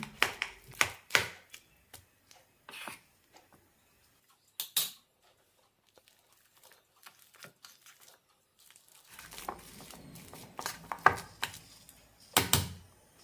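Boiled potatoes being mashed for a bread samosa filling, soft irregular squishing taps and scraping bursts, close and quiet, with a silent stretch midway before the soft pressing resumes.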